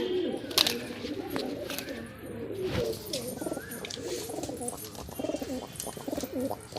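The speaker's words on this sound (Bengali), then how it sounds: "এটা আছে মেল আর এটা আছে ফিমেল পায়রা" Andhra pigeons, male and female, coo in a loft in Kolkata, with soft, repeated throaty calls, fairly close, and a few scattered chirps and rustles around them.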